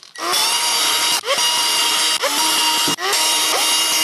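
A power drill with a 3/32 inch bit drills pilot holes into a clamped wooden jig. It whines loud and close in four bursts, each briefly dipping in pitch as the bit bites and then dropping out between holes.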